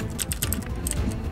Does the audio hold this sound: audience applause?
no